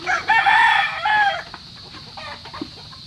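Chickens clucking and crowing loudly up close, a rooster's call standing out, followed by quieter clucks against outdoor background noise.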